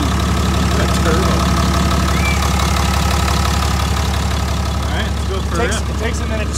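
A Dodge 2500 with a Cummins diesel engine tuned to 1000 wheel horsepower sits idling with a steady, loud, low knocking rumble and a whistly turbo tone on top, while voices talk faintly over it.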